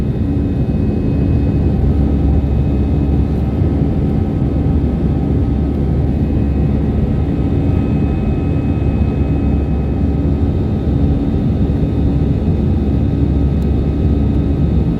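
Steady, loud airplane engine roar inside the cabin during a short flight north from Pakse, Laos, an unbroken drone with no talking.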